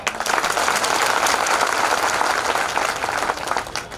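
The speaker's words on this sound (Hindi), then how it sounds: "मैं तो कहता हूं एक बार उन्हें भी तालियां बजाओ।" Audience at a Lavkush Jayanti celebration applauding steadily, a dense burst of clapping sustained for several seconds without speech.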